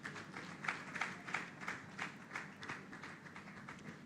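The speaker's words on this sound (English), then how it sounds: "please give her a round of applause" Faint, sparse clapping from a conference audience at an entrepreneurs' trade expo, greeting a panelist with a handful of distinct claps repeating in a loose rhythm.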